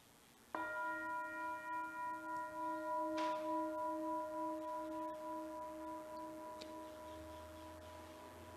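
A single church bell struck once during a Sunday morning service, a clear ringing tone that sustains and slowly fades over several seconds with a gentle pulsing shimmer, alone in a quiet room.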